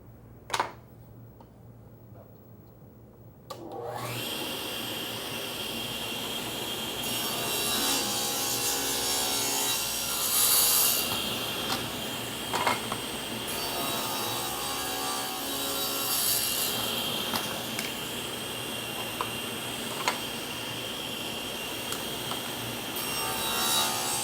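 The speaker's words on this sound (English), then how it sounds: "we're ready to mill the grooves, and all of our pieces, the rails and the stiles, both get a groove." Grooves being milled into wooden cabinet door rails and stiles, a router or cutter spinning up after a quiet start, then a sustained loud whine and rasping cut running steadily to the end.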